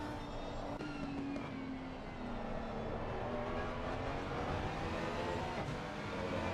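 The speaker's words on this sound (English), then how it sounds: "Lenatus is going to make good work of Iro there in the number 992 Porsche" A number 992 Porsche race car in a sim racing game holds a steady, droning engine note close up, with gradual pitch sweeps as it shifts and changes speed and no voices over it.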